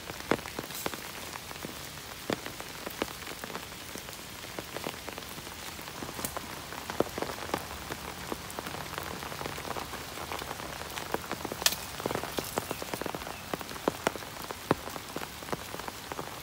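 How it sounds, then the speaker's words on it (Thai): Heavy rain pours steadily onto a hard surface, dense drops pattering throughout with sharper splashes scattered across the whole stretch. "ลมแรงมากเลยนะคะฝนตกมาครั้งนี้"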